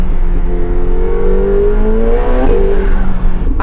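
A 2025 McLaren 750S supercar with 740 horsepower accelerating hard, its engine note loud and rising steadily as revs climb, then shifting briefly near the end, with strong low rumble throughout and no voices.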